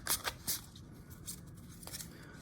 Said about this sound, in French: Mélangeons un petit peu les cartes.